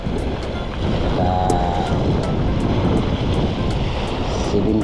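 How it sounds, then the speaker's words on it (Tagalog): Choppy sea water sloshing and gusting wind buffet a microphone out on open water during a fishing trip, a steady loud wash of surf and wind noise throughout with no talk. "Yan yung ano ng tubig natin ngayon eh. Medyo magalaw. Saka yung hangin."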